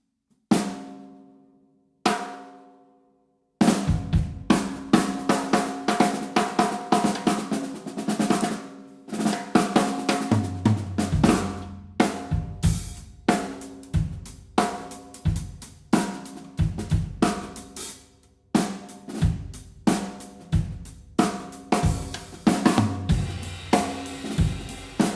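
A snare drum fitted with an Ambassador Vintage coated batter head and an Ambassador Hazy snare-side head, struck alone in a rhythmic groove: a few isolated hits, then steady repeated strokes with sharp attacks and ringing, buzzy decays.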